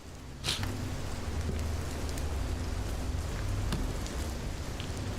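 Steady rain pattering on surfaces in the Fears to Fathom game at Ironbark Lookout, a constant soft hiss with a few sharper drips, no talking.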